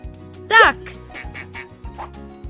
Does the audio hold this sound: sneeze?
no